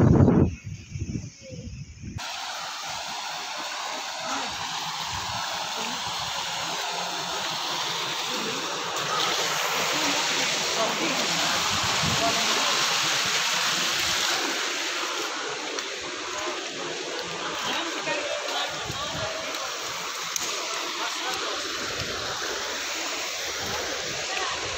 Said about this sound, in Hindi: ये हमारा अम्ब्रेला वाटरफॉल है।